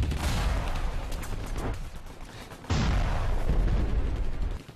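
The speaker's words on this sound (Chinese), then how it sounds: "设在日本兵营的两门重炮开始轰击，炮火异常猛烈" Two heavy artillery guns at a Japanese barracks bombard the Beidaying camp: a dense, continuous roar of booming blasts and rumbling bursts, loud and close, dipping briefly before surging again.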